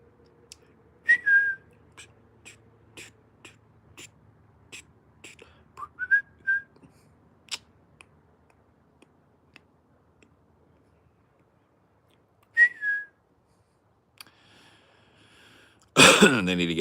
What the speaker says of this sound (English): I'll answer with a whistle.